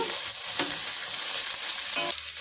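Capsicum sizzling as it fries in a pan with onions and green chillies for masala pasta, a steady close hiss of hot oil with brief stirring scrapes.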